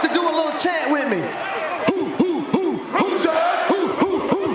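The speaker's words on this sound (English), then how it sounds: "So I need everyone in the crowd to do a little chant with me." A large crowd at a college football game day broadcast chanting a rhythmic repeated call, loud and close, with a bright swooping tone weaving through it and sharp thuds punctuating the chant.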